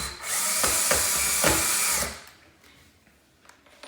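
Power drill driving screws into pilot holes to mount faux wood Venetian window blind brackets, a loud steady whir for about two seconds with brief bursts, then stopping to near quiet.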